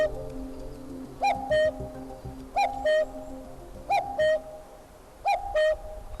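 A common cuckoo calls in a forest, four clear two-note cuckoo phrases evenly spaced and fairly close, with no talking.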